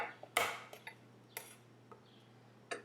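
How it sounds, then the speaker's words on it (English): Garlic cloves smashed with a knife on a kitchen board: a few sharp, faint knocks and clacks spaced irregularly, one stronger thump among lighter taps, against a low steady hum. "a few cloves of garlic. Just simply smash them"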